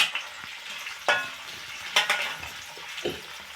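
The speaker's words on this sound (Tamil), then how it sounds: "கம்மி ஃப்ளேமில் வச்சு இது ஃப்ரை பண்ணிக்கணும்." Chilli chicken frying in a pan on a low flame, a steady soft sizzle with a few sharp stir and scrape bursts spaced through, close and alone with no voices.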